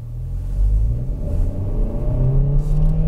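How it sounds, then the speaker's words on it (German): A 2023 Kia XCeed 1.6 T-GDI GT-Line pulls away from a stop through its dual-clutch gearbox, the engine note rising in a steady low rumble that holds loud and close throughout. "Hier ist das Doppelkupplungsgetriebe beim Anfahren"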